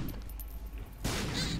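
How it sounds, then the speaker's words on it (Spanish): Explosions in the video game The Binding of Isaac: Afterbirth, a sudden loud burst of blasts about a second in, over quieter game sounds beforehand. "Explosiones por todas partes, ¿eh?"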